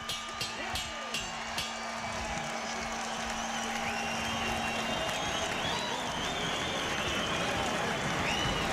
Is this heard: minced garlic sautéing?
no